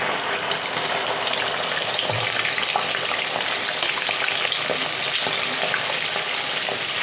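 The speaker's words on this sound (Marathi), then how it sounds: "लगेच आपण आपण केलेला मसाला होता ना तो टाकणार आहे ह्याच्यामध्ये" Spice masala hits hot oil with a bay leaf for palak paneer, setting off a loud, steady, close sizzle with scattered crackles throughout.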